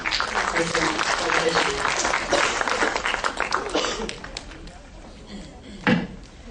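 A gathered audience claps for a woman being honoured, a burst of mixed applause that thins and scatters out, with a sharp knock near the end and voices mixed in.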